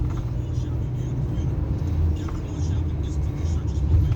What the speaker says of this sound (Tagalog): I-skid yung sasakyan ko.